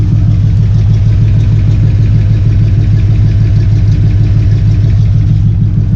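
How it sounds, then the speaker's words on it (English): A car with Heddman headers and a Flowmaster muffler idles with a deep, steady exhaust note, a loud close low rumble pulsing evenly for several seconds with no voices. "And here's some good old exhaust note."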